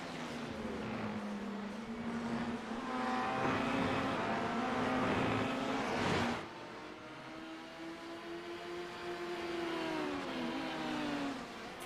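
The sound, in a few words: LMP1 race cars passing the start-finish line, sim racing video game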